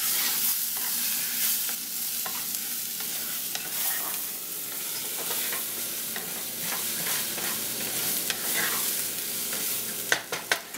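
Rice with pepper and tomato stirred in a sizzling pan, a continuous close frying hiss with soft repeated scraping strokes and a few sharper clicks near the end, no talk.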